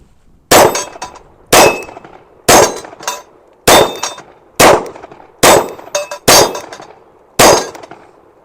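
A PSA Dagger Micro pistol fires 115 grain rounds, eight sharp, loud reports at roughly one-second intervals, each with a ringing metallic tail and quiet gaps between shots.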